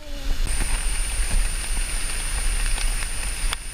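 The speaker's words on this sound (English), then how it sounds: "So the rain started." Steady rain falls outdoors on a walk, a dense broadband hiss spread evenly throughout, with a few faint thumps and a thin high whine running over it; no talking.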